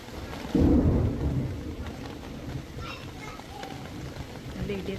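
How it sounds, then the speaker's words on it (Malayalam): Heavy rain pours down during a thunderstorm that brings hail, with a loud thunder crash near the start and then a constant hiss of rainfall. A voice speaks briefly over the downpour. "നല്ല മഴ പെയ്യാൻ തുടങ്ങിട്ടോ ഇങ്ങോട്ട്"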